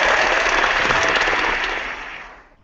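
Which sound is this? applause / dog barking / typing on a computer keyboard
applause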